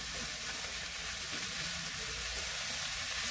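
Marble potatoes with sliced ham fry in a pan over quick high heat, giving a steady, even hiss of sizzling oil that runs unbroken throughout, close and moderately quiet.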